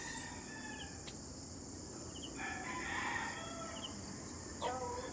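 Fighting gamecocks outdoors crow in drawn-out calls mixed with scattered clucks, several birds at middle distance over a steady insect hum and outdoor background.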